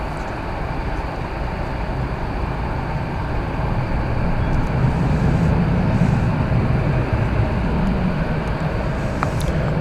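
A Boeing 747 heading for London takes off at night from DFW airport, a steady, broad roar of jet engines that builds slightly and holds, sounding moderately distant with no voices over it.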